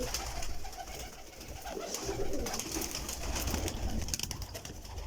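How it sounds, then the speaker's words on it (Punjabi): Imported breed pigeons cooing in a loft, a continuous mix of soft low coos and bird calls throughout, fairly faint over background noise with no talk. "ਇਹ ਵੇਖੋ ਕਬੂਤਰ"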